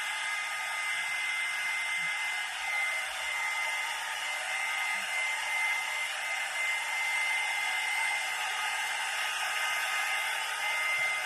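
A hair dryer blows steadily to dry wax on a paint-stick winter window craft, a loud, continuous broadband whoosh with no pauses and no talk.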